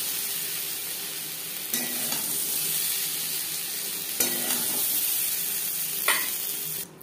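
Pointed gourd (potol) frying in hot oil in a pan, a steady close sizzle throughout with a few brief scraping stirs, no voices.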